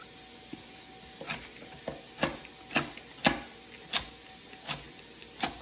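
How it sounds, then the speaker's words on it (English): Knife chopping baby snack carrots on a cutting board in a home kitchen, about nine crisp evenly spaced cuts at a steady rhythm, close and clear, with no talking. "Get some carrots chopped."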